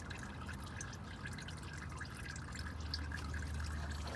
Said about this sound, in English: Look at that drip drop.